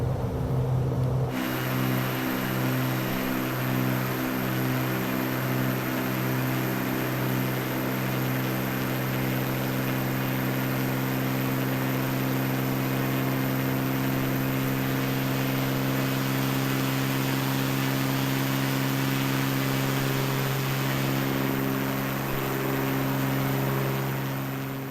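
Black Square Bonanza piston engine at takeoff power in Microsoft Flight Simulator, a loud steady drone with strong harmonic throb and propeller beat, continuous and close, with no talking.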